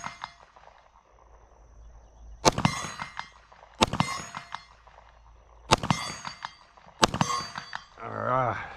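An FN Reflex pistol fires at a steel target 50 yards away, giving four sharp shots, each followed by a ringing metallic clang, spaced a second or more apart and loud against a quiet outdoor background.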